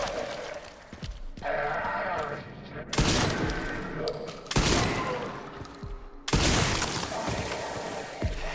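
Shotgun blasts in the Resident Evil Requiem video game, four loud, sharp booms spaced a second or two apart, each followed by rattling debris, with talking in between.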